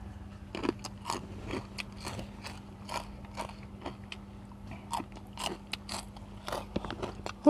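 Pork rinds are crunched up close in a rapid series of sharp, crisp bites and chews, irregular but continuous over a low steady hum.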